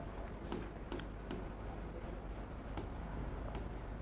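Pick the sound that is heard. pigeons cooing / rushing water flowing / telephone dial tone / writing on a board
writing on a board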